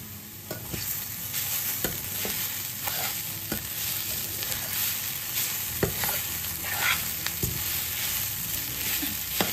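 A quick breakfast sushila frying in a pan and being stirred, a continuous close sizzle broken by regular scrapes and clacks of the spoon against the pan.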